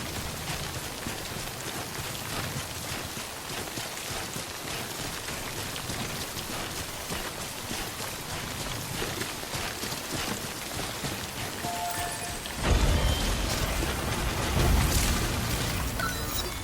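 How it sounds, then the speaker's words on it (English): Rain in Death Stranding, a continuous dense patter and hiss that runs throughout, swelling louder near the end with a low rumbling boom, and no voices. "Good thing it was raining."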